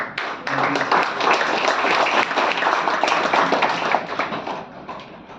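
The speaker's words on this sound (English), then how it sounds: "Big round of applause." An audience applauds at the prize distribution of a squash tournament, the 77th CCI Western India Slam, with dense, sustained clapping that holds steady for several seconds before thinning out at the end.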